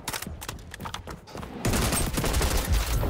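Gunfire in the shooter video game XDefiant, dense rapid automatic shots and crackling bursts throughout, growing louder and busier halfway through in a chaotic firefight, with a brief voice over it.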